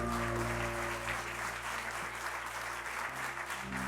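Audience at a Christmas gospel show applauding the singers, a full, sustained burst of clapping heard over a low background hum, steady for the whole stretch.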